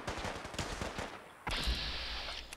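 Gunfire from attacking Gunners in Fallout 4 rattles in a quick burst of shots, followed by a louder sustained blast and roar, with no talk.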